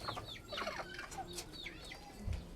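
Hens clucking in a coop, several short rising and falling clucks close by in a quiet setting, with a soft thump near the end.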